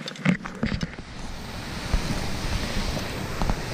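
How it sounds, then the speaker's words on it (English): A small waterfall pours into a little pool in a winter trout stream, a steady broadband rush of falling water, fairly close and continuous with no voices. "what I got here now is a nice little waterfall right here with a little pool"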